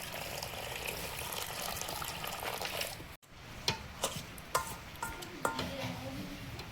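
Hot water runs steadily into a bowl of fine semolina, a continuous close pouring wash that stops abruptly, followed by a few sharp taps and clinks of a utensil against the vessel.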